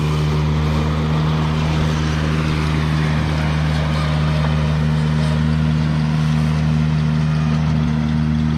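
A Ventrac compact tractor with a front cutter deck riding on guide wheels in float mode runs steadily close by, a loud continuous engine drone with a constant low hum and no talking.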